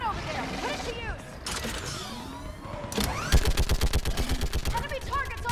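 A mounted gun fires in the Mass Effect 3 game on Thessia, a steady run of rapid, evenly spaced loud bursts in the second half, following scattered shots, whooshes and mechanical creaks amid battle noise.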